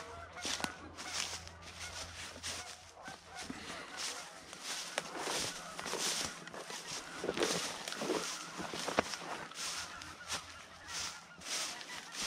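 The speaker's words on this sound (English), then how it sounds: "Man, there's a lot of geese out here." Many geese honk continuously in a loud, overlapping chorus outdoors, with footsteps crunching along beneath the calls.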